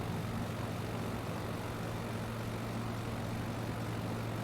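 Steady, droning piston-engine hum of a slow light aircraft in Flight Simulator, flying over Hawaii; a continuous, even, moderately quiet tone with no speech.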